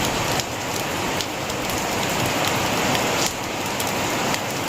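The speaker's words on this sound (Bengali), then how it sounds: "দেখতে পাচ্ছ কিরকম আওয়াজ হচ্ছে। এই দেখো বৃষ্টি," Rain falls hard and close, a thick continuous patter on surfaces with brief swells in intensity, during a storm with lightning in Siliguri.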